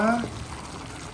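Canned sardines are stirred as they fry in a pan before cabbage goes in, giving a steady low sizzle and scraping bubble while a voice speaks briefly over the opening.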